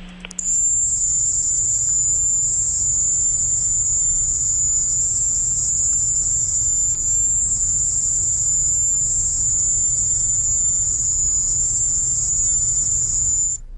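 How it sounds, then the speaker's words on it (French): A steady, high-pitched cricket-like whine runs unbroken for the whole stretch, loud and constant over a low rumbling hiss, recorded as a sonic disturbance. "Ce bruit-là ressemble effectivement à un bruit de grillon."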